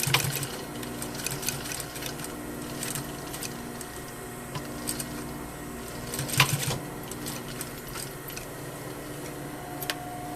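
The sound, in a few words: sewing machine stitching a handkerchief pocket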